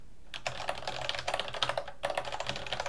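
Quick, light clicking of someone typing code on a computer keyboard, irregular bursts of keystrokes close up with a short pause in the middle.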